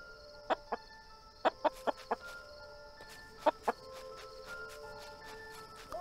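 Chickens in the video game Balrum cluck in short sharp bursts, a quick cluster of clucks followed by a pause and two more, over a faint steady background hum.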